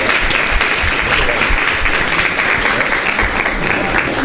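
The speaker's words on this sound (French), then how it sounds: "applaudissez pour elle" Studio audience applause on a live midday TV show, a loud steady wash of clapping that carries on evenly throughout with no pause.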